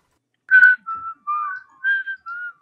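A person whistles the simple tune Hot Cross Buns alone, several clear sustained notes in a short, unhurried phrase with brief gaps between them.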